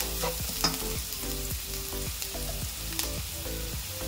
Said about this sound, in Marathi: आपण कांदा टाकलेला आहे, तो हलकासा असा फक्त टॉस करून घ्यायचा आहे